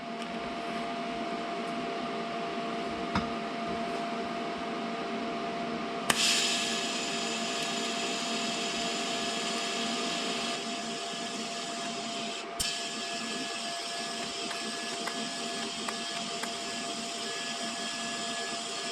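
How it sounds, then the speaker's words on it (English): TIG welding on a Mazda Miata muffler pipe during a budget muffler delete gives a steady, close electric buzz and hiss that runs the whole time, broken only by a couple of sharp clicks. "So I'll just TIG weld the rest of it."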